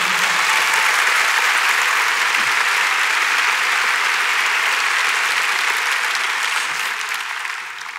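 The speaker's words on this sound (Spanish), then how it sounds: "Dale fuerte ese aplauso al Señor." Sustained, loud applause from a large church audience, steady throughout and tapering off slightly at the end.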